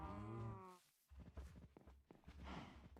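Cows in a video game moo in a long, loud low call at the start, followed by scattered footsteps and bumps, with a second fainter lowing near the end.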